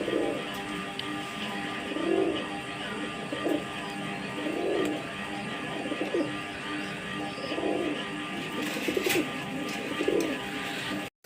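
A pair of blue bar Hungarian Budapest pigeons coo close by, low throaty coos repeating about every second or so in a steady rhythm over faint background noise.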